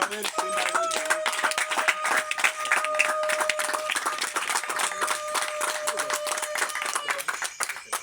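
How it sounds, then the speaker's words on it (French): A congregation at an evangelistic church campaign claps rhythmically in acclamation, sharp repeated claps with a sustained held voice or tone running beneath, fairly close and lively. "Offrons une acclamation au Seigneur Jésus."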